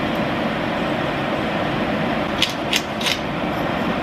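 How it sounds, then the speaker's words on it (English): Kitchen exhaust fan running during cooking, a steady broadband whoosh that fills the room, with a few faint clicks and knocks from kitchen work near the end. "Okay, sorry about the fan."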